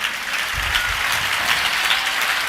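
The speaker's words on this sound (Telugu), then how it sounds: "చప్పట్లు కూడా మీరు గట్టిగా కొట్టండి చప్పట్లు" A church congregation claps hard and fast in a dense, sustained wash of applause, loud and close, with no voices standing out.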